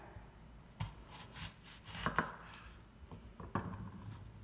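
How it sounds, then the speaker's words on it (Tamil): A knife cuts an apple with a few separate crunchy strokes and board taps, faint and close in a quiet kitchen. "நான் இப்போ வந்து ஆப்பிளை உங்களுக்கு கட் பண்ணி"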